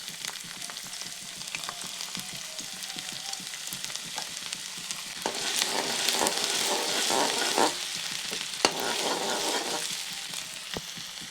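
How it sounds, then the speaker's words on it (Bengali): Ginger and garlic frying in hot mustard oil for street-style chowmein, a steady close sizzle and crackle with occasional stirring clicks, growing louder and denser midway, no talking. "যে আদা রসুনটিকে কিছুক্ষণ ভেজে নেব।"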